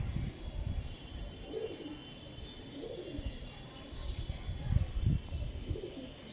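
Kalanka pigeons coo in soft, low repeated calls, several rounded phrases close by under a light background hiss, with occasional faint noises from the surroundings.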